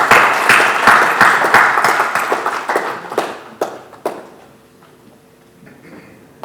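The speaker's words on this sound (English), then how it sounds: "So let's welcome the CA Mahendra with a good round of applause." An audience applauds to welcome a speaker at a professional talk on data analytics, with loud sustained clapping that thins out and fades into scattered claps and quiet room noise.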